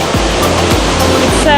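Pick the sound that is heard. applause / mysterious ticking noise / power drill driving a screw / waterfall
waterfall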